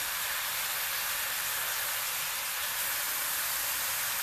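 Pork ribs frying in hot fat give a loud, steady sizzling hiss that never lets up.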